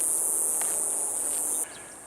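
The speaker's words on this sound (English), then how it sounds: "Cicada bugs." Cicadas buzz in a steady high-pitched drone beside a flooded, swampy patch of woods with old ironwood sticks, fairly loud and continuous before dropping slightly in level near the end, with no talking.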